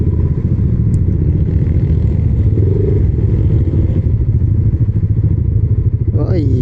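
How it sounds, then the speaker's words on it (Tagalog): A group of Yamaha NMAX motorcycles rides past, a loud, close, continuous engine drone and rumble that holds steady throughout. "Puro sila NMAX oh."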